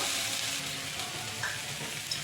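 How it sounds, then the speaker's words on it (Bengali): Water poured onto frying spices in a pan while cooking potato and pointed gourd curry, giving a steady hissing sizzle throughout, fairly quiet and close, with no voices. "এবার জল দিয়ে দেবো"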